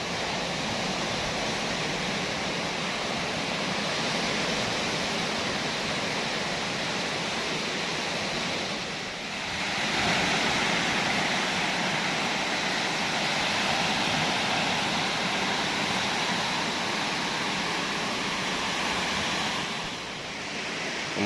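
Ocean surf at Jasri beach's Dalem surf spot: a steady, loud, broad wash of breaking waves that rolls on continuously, with a slight lull and swell now and then and no voices.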